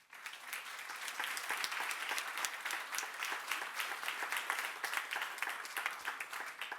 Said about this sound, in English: I think an applause is in order